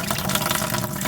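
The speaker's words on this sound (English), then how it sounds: "this is draining all of the water that's inside of the water heater." Steady rush of water draining from a tankless water heater into a bucket during a flush, continuous and close, with no breaks and no talking.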